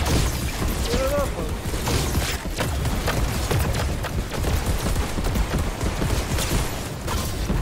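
Dense overlapping video game gunfire with mechanical clatter and booms, a steady loud barrage throughout while players talk over it.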